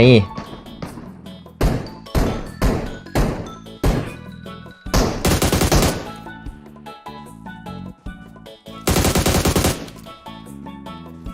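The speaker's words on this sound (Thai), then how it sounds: "ตอนนี้เราเห็นแล้วนะครับว่ามีเสียงปืนอยู่ข้างหน้านะครับ" Gunfire in the battle-royale game PUBG Mobile: a sequence of sharp, loud shots and short automatic bursts, spaced irregularly, with two longer rapid-fire volleys, close and punchy.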